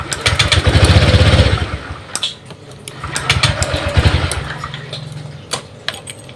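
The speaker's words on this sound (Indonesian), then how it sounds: "Ini hidup ya teman-teman, tapi kalau digas mati." A Honda Vario 125 scooter with an intermittent fuel-injection fault revs up raggedly twice, each burst sputtering and dying out, leaving short quiet gaps with clicks, close and loud.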